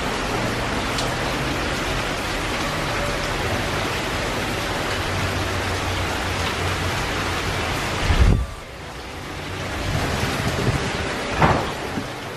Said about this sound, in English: you want to go out in the rain?